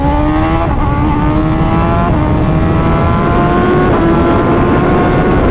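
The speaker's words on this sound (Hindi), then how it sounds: "मैं आपको दिखाता हूँ कितने कम टाइम में हाई स्पीड जाती है" A litre-class motorcycle accelerates hard toward high speed, its loud engine rising in pitch through repeated gear changes under steady wind roar.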